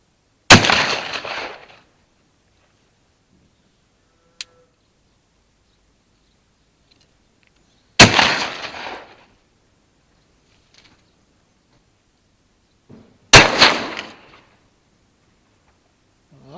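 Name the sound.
rifle shots at the milking parlour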